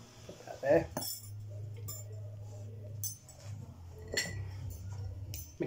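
A cocktail mixing glass is handled on a bar counter for a French Martini, giving sharp glassy clinks and knocks near the start and a few more later over a low steady hum, with some talking in between.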